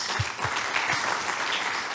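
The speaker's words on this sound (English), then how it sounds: "Round of applause for Andrew, please" Audience applause for a presenter at an MIT startup founders' Google Ads Q&A session, a steady wash of clapping with a few louder low thumps near the start, filling the whole moment.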